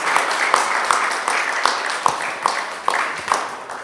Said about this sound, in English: So a brief round of applause for Martin as our first student receiving this